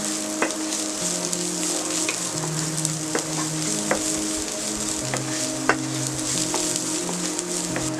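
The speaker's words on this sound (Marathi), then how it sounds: "हे सगळं आपण फुल गॅसवरती परतवून घेत आहोत." Onion stir-fried over a full gas flame sizzles loudly and continuously, broken by occasional light clinks of a spatula against the pan.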